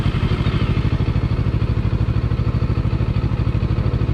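A JEDI K750 motorcycle with a 750 cc engine starts and settles into a steady, loud idle, its close, rapid pulsing throb running evenly throughout with a mechanical clatter on top.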